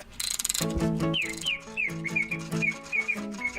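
A bright, whistled bird song in a short run of clear, repeated chirping phrases, close and fairly loud, with no talking.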